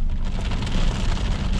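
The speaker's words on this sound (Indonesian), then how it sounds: "Nah, ini udah mulai deres" Heavy rain drums steadily on a Toyota Calya automatic as it is driven, a dense, loud wash of hiss and patter with no voices.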